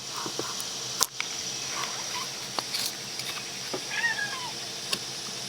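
A domestic cat meows a couple of times, faint and brief, over a quiet indoor room where wood is being carved with a knife, with a few small clicks and taps around it.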